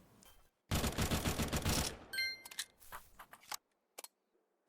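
Rapid video game gunfire emptying a magazine, a dense burst of automatic shots lasting over a second, followed by mechanical clicks and a few scattered sharp reports before quiet.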